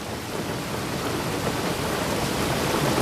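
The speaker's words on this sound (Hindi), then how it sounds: "लेकिन बाहर बारिश हो रही है।" Rain falls outside in a steady, even hiss that carries on unbroken, with a low rumble underneath.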